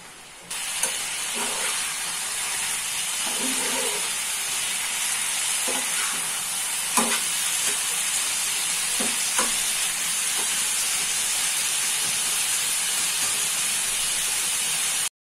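Boiled pumpkin tossed into a pan with prawns, green chillies and sugar, frying with a steady loud sizzle and hiss, with occasional scrapes and clinks of stirring throughout.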